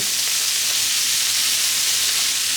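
Onion, carrot and cabbage frying in oil in a pan give a steady, even sizzle with no talk over it.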